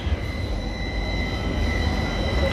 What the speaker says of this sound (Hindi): ये ट्राम